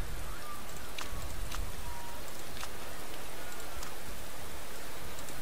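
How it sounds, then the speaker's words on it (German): Simulated rain in the racing management game Motorsport Manager falls as a dense, even hiss of drops, steady and loud from start to finish, with occasional sharper droplet ticks. "Es regnet schon mal."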